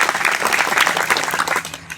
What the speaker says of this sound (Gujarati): ડૉક્ટર સાહેબ, બળવંતભાઈ, એમની સાથે સમૂહભાઈ, એ વગેરે ટીમને પણ આપણે તાળીઓથી વધાવી લઈશું.